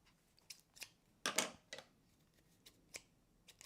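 A pair of scissors is handled on a desk during a scrapbooking session, with faint clicks, snips and rustles scattered irregularly, one louder snip standing out, close and quiet.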